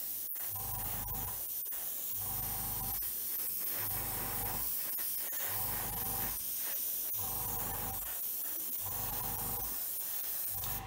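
Repeated bursts of aerosol spray paint hiss over masking tape on an Airfix Hawker Hurricane model kit in steady passes, each a second or so long, separated by brief pauses, close and even.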